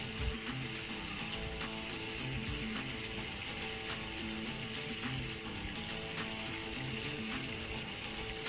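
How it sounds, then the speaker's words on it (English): Bacon spits in rendered fat as it browns in a Dutch oven, a steady, dense crackle and sizzle that stays even throughout with no talking. "You can see that fat is rendered down nicely, and bacon is starting to brown, taking on some colour."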